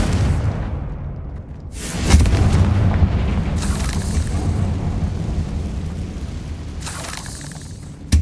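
Confringo explosion spell blasting in the video game Hogwarts Legacy, a loud booming burst with a rumbling tail, then a second sharp blast near the end, with no voices.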